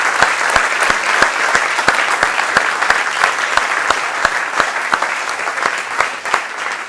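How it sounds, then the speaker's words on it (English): Audience applause fills a TEDx event hall at Catolica Lisbon SBE: dense, sustained clapping with sharp individual claps standing out, loud and steady throughout, with no voices over it. "So another round of applause for them to come into the Q&A session."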